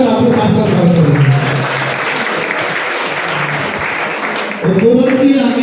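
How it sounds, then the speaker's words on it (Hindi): Audience at a dengue and malaria awareness event in a Delhi neighbourhood clapping to welcome a doctor, a steady, dense round of applause from a crowd, with voices faintly mixed in. "ताली बजाकर डॉक्टर साहब का स्वागत करेंगे।"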